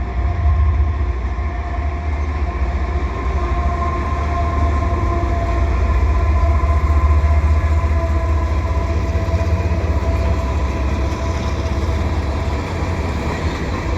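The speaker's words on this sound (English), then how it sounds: "Here comes a CP train at the Dorval Ramps, headed east really quickly." A CP eastbound mixed freight train led by an ES44AC with a GP20ECO, rushing past at speed at the Dorval Ramps: a steady, loud rumble and clatter of wagons that holds throughout.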